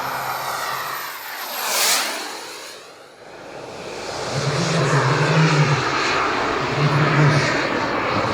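A CARF Models MiG-17 radio-controlled jet flies at an airshow. Its loud turbine roar swells and drops in a Doppler sweep as it passes close, then builds again into a sustained rushing roar with a rumbling low tone.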